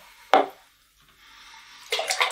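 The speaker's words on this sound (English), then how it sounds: "So let's pour it in the bucket." Coloured water is poured into a bucket in two short bursts, a near splash and then a longer trickling pour, fairly quiet with a lull between them.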